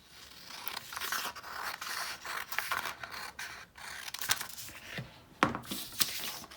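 Scissors cut along a creased edge of a folded paper sheet for a 3D paper Christmas tree decoration, making a series of short, close snipping and rustling scrapes in an irregular rhythm with quiet gaps between them.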